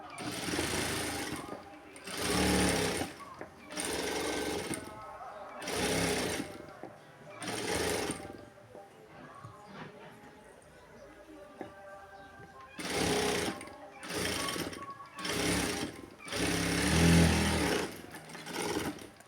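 A sewing machine stitching a lining runs in repeated short bursts with pauses between, loud and steady while it sews, with talking heard during the gaps.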